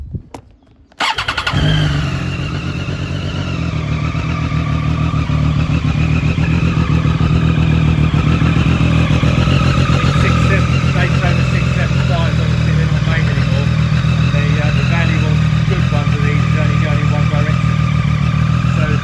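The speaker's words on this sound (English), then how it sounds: "So let's start the bike up." A 2013 Triumph Daytona 675 motorcycle cranks and fires up after a moment of quiet, then settles into a steady, loud, close idle that runs evenly to the end.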